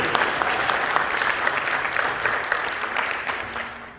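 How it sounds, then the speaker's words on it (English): An audience at a high school Veterans Day celebration applauds the school's senior chamber choir members with steady, dense clapping that carries on without a break. "Put a round of applause for our ZBTHS Chamber seniors"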